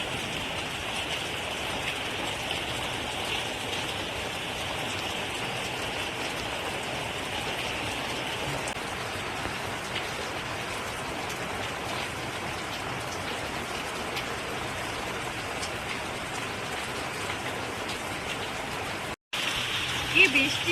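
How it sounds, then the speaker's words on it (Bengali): Heavy rain pours steadily and evenly as a dense, continuous wash of drops on surfaces, ending with a short break and a few louder knocks. "এত বৃষ্টি কি বৃষ্টি প্রচুর বৃষ্টি"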